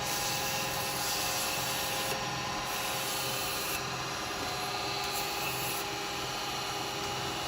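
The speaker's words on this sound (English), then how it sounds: "I'm going to just quickly wipe that with a little bit of sandpaper." Sandpaper is held against a spinning wooden snowman on a woodturning lathe, giving an even, unbroken abrasive hiss over the motor's drone, close and moderately loud.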